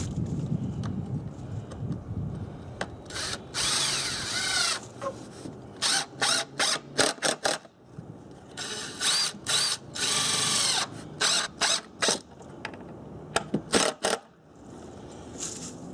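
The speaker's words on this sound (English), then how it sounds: "put it on up and run the screws on in" A power drill drives screws into a wooden block inside a cargo trailer being built into a camper. Close, loud whirring runs alternate with rapid stuttering pulses and brief pauses.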